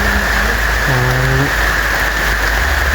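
Steady rain hisses constantly, with a brief faint tonal sound partway through.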